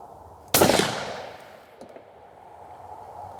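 A single sharp rifle shot from a Weatherby Vanguard in 6.5-300 Weatherby Magnum, loud and close, followed by a long decaying echo across open ground and a faint distant thump afterward.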